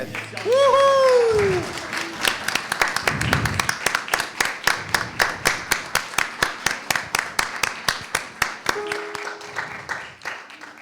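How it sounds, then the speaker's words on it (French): A congregation at a Christmas Day church service claps in steady rhythmic unison, sharp regular beats continuing for several seconds after a brief voice and a sung tone at the start. "on peut l'applaudir"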